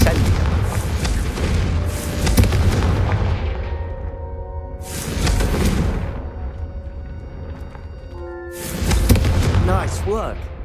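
Confringo fire spells are cast in the video game Hogwarts Legacy, each landing as a loud booming blast with a rumbling tail. Three big bursts arrive several seconds apart, with spoken voices and magical whooshes mixed in between.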